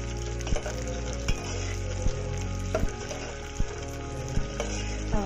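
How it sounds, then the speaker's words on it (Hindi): Chopped onions frying in hot oil for a ridged gourd and potato curry, a soft steady sizzle broken by regular sharp taps of a spoon against the pan, with no talking. "अब हमारा तेल गरम हो गया है। अब देखेंगे प्याज डाल के, फिर हमने कटी हुई प्याज डाल दी इसके अंदर।"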